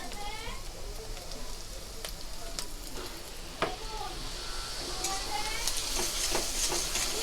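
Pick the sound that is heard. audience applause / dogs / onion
onion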